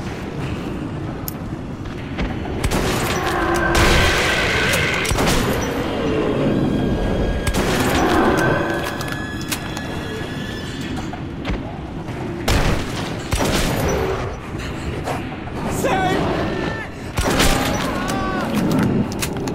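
Shotgun blasts in Metro 2033 boom out as loud, sharp bursts spaced several seconds apart over a rumbling game soundscape, with voices heard between shots.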